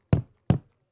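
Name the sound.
footsteps sound effect from a horror puzzle video game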